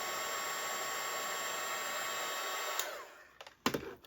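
Steady loud blowing roar of a heat gun warming a part of a Hitachi air suspension compressor from a Range Rover L322 before fitting, running evenly for nearly three seconds and then cutting off with a few clicks and knocks.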